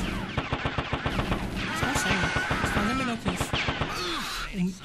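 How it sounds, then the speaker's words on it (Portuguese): Rapid bursts of automatic gunfire from the video game Dog Duty rattle in quick regular volleys, with brief pauses between strings of shots and game sounds in between. "Vamos atirar nesses caras aqui e derrubar eles de uma vez por todas."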